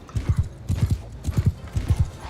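Horse hooves galloping in the video game Mount and Blade II: Bannerlord, a loud, close, rapid rhythmic drumming of clip-clop beats in repeated groups of three to four, with no talking.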